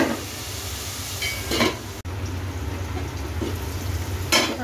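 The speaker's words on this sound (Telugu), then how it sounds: "టమాటా ముక్కలు మంచిగా మగ్గేంత వరకు ఫ్రై చేసుకుందాం." Tomato pieces fry in a pan for a mushroom curry, giving a steady close sizzle and hiss with a few brief stirring scrapes and no talk.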